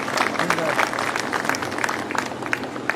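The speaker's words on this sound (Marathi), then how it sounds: "त्यांच्या स्मृतिप्रित्यर्थ स्मरणार्थ एकदा टाळ्या वाजवून घेऊया" Audience at a memorial tribute ceremony clapping in remembrance, a fairly loud, busy spatter of hands that holds for about three seconds, with a voice faintly audible underneath.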